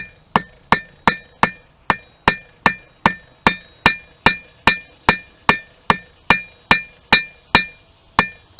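A blacksmith hammers a hot nail taper on an anvil, about twenty sharp, ringing metallic strikes in a steady, even rhythm, each one loud and close with a short bright decay.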